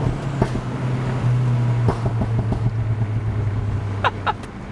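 A car with an upgraded shifter and wheel drives with its windows down, giving a steady rush of wind and road noise over a low engine drone, with a few faint outside sounds passing by.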